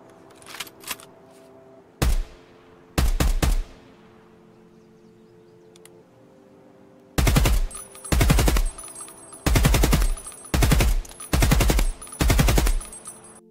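Bullpup rifle firing in Escape from Tarkov: two single loud shots with decaying echoes, a pause, then five rapid automatic bursts in quick succession, close and punchy.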